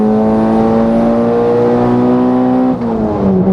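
A Volkswagen Jetta on the Bonneville salt flats accelerating hard in third gear, its engine drone loud and steadily climbing in pitch, then dipping briefly at a shift before pulling again.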